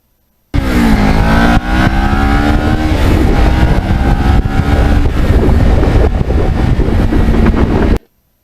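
A restored Kawasaki Ninja motorcycle being ridden, its engine revving and climbing through gears close up under strong wind rush, starting and stopping abruptly.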